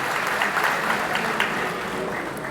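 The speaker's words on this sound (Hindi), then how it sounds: "इनके लिए भी जोरदार तालियां एक बार आप लोग बजा दीजिए" Applause from a party workers' gathering for auto union members seated at the back, a dense, steady burst of clapping filling the hall for a couple of seconds.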